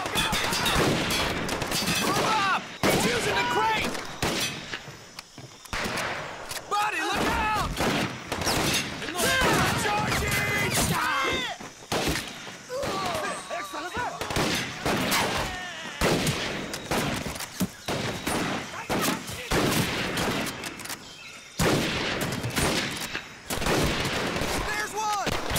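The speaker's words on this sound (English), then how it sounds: "This sounds like the shotgun from GoldenEye" Rapid bursts of shotgun and rifle fire in the World War II shooter Medal of Honor: Pacific Assault during a night raid on Makin Atoll, loud and repeated in clusters, with shouted voices mixed in.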